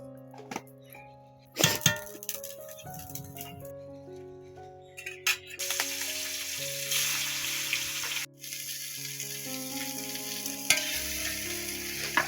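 Koi fish sizzling in hot oil in a pan, a steady frying hiss that swells louder midway, with a few sharp crackles and background music running throughout.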